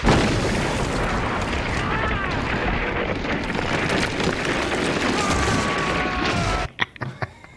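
Mortar explosions in a war movie scene, a loud sustained roaring blast wash with rumbling debris that cuts off abruptly near the end, followed by a few short sharp pops.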